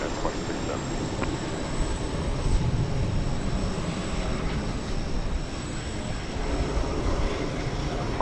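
Airplane taking off from runway 18 Left at DFW Airport, a broad steady engine roar heard from a distance under faint radio chatter, continuous throughout.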